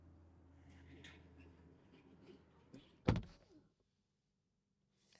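A 2026 Tesla Model Y door with extra insulation shuts with one solid, muffled thunk, after which the cabin goes almost silent; faint background noise precedes it.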